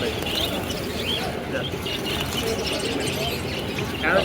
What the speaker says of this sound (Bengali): এখানে প্রচুর পরিমাণ জামা পাখি আছে এক সাইডে